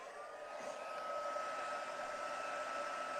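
A hair dryer blows steadily on something during a craft session, giving an even, continuous airy whir with a faint motor tone for the whole few seconds, fairly quiet and with no talk.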